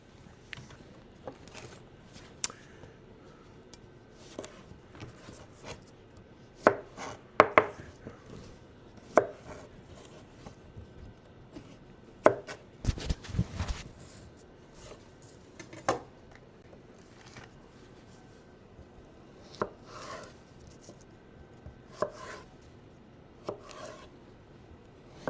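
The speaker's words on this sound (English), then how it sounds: "I'm going to cut up a nice red onion over here" Knife chopping a red onion on a cutting board, irregular sharp taps and clusters of quick chops separated by quiet gaps, close and fairly faint, with no talking.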